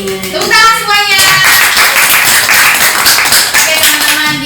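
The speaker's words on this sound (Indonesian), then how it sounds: "Tepuk tangan semuanya." A group of young people clapping together at close range, loud and irregular, over background music with a few voices mixed in.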